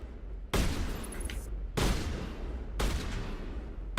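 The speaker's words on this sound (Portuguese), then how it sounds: "atirar com sniper a queima-roupa" Three loud, close sniper rifle shots fired at point-blank range in the video game Mass Effect, each a sharp blast with a long reverberant tail, spaced about a second apart.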